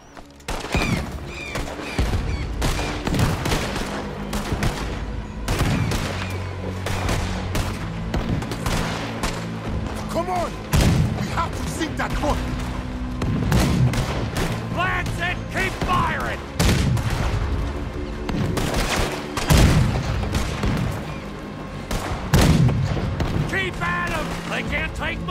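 Cannon blasts and gunfire in Red Dead Redemption 2, with repeated heavy booms and bursts of shots spread through a long battle, horses neighing and people talking over the action.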